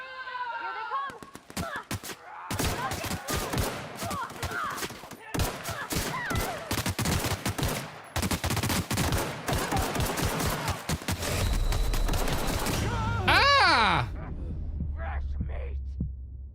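Rapid bursts of sci-fi gunfire from The Outer Worlds: Spacer's Choice Edition, dense cracks and volleys sounding loud and near for most of the stretch, a deeper rumbling tail near the end, with brief speech under the shooting.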